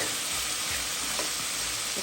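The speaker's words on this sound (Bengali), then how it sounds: "এখন আস্তে আস্তে ভাজিটা ভাজা ভাজা হয়ে যাবে।" Pumpkin bhaji frying in a pan gives a steady close sizzle with soft stirring scrapes throughout, with no talk.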